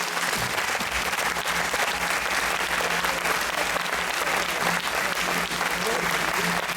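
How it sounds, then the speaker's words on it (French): An audience at a hypnosis show applauds loudly and continuously, a dense, even wall of clapping that holds steady from start to finish. "on peut vous applaudir bien fort."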